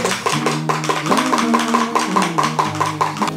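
A bar spoon stirs milk tea made from black tea and creamer in a cup, tapping and clinking against the sides in a quick, steady rhythm, close and fairly loud with no voices.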